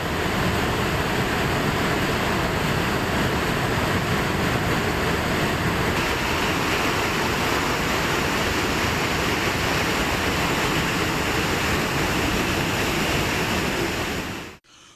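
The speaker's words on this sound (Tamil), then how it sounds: "திருமூர்த்தி மலை பஞ்சலிங்க அருவியில் காட்டாற்று வெள்ளம் ஏற்பட்டுள்ளது." Flash flood water thunders down the Panchalinga waterfall in the Thirumoorthy hills after heavy rain, a loud, dense, unbroken roar that holds steady throughout before cutting off at the very end.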